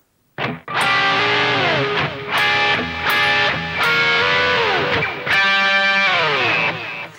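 A distorted electric guitar plays the next phrase of a rock song, sliding double-stop bends and crunchy picked notes, ending on a sustained trilled figure, loud and unaccompanied.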